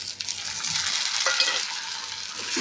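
Tomatoes stir-fried in oil with red chili powder for upma: a bright, constant sizzle close by, with a few soft spatula scrapes and no speech.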